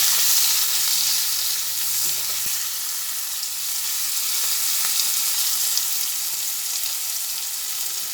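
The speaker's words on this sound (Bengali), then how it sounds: "এক চামচ নুন দিলাম দিয়ে আবার ভালোভাবে ভেজে নিচ্ছি" Turmeric, salt and spices frying in a pan for a kochur loti dish give a steady, close sizzle throughout, with a few faint scrapes of stirring.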